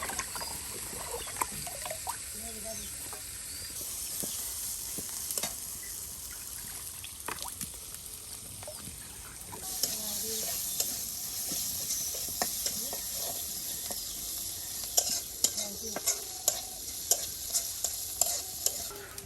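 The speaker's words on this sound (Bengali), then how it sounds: "একদম পেঁয়াজ রসুন সবকিছু ভাজা ভাজা করে নেওয়া হলো।" Onion and garlic fry in an oil pan with a steady sizzle while a utensil stirs them, scraping and clicking at close range, with no talking.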